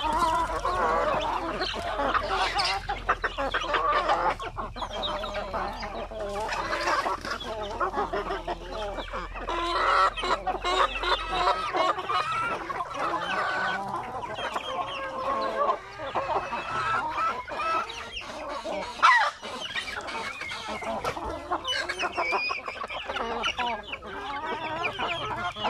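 Basilan and Zampen crossbreed native chickens cluck and call continuously close by, with scattered clucks overlapping and someone speaking faintly beneath the flock.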